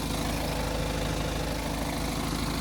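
A BMW 520d F10 diesel engine idles with a steady, dense rumble, loud and close, holding an even drone with no variation throughout.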